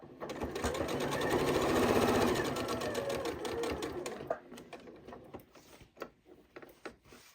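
A Janome 8200 QCP sewing machine stitches fabric in a steady, loud mechanical run of about four seconds, then stops and gives way to a few short clicks and handling noises.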